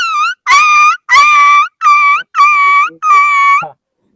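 A voices a dog imitation in a rapid string of six loud, close yelping barks with brief gaps between them.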